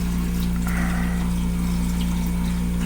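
Water flows into an ice maker machine with a soft, continuous rushing over a loud, steady low hum from the running machine, close and unbroken, with no talking.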